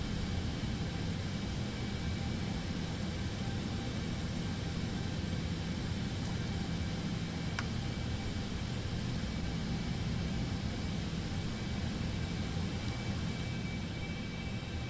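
A Cessna Citation X business jet in Microsoft Flight Simulator 2024 roars steadily during its takeoff run, a constant broadband engine noise with a faint whine, heard alone.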